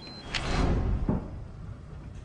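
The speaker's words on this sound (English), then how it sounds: "these sounds were made by Prodromo using the electronic keypad to unlock the cockpit door" An electronic keypad unlocks an aircraft cockpit door, picked up by the cockpit voice recorder: a faint short electronic tone, then two muffled mechanical clunks about three-quarters of a second apart over a steady cabin rumble.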